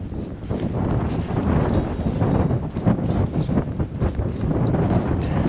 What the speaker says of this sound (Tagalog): Malakas talaga hangin.